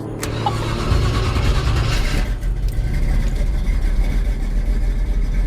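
A 1965 Chevy Nova wagon engine cranks and catches, then settles into a loud, steady idle rumble close by, with no talk over it.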